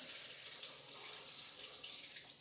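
Tap water running over a hydrometer being rinsed clean, a steady close hiss of flowing water throughout the short stretch.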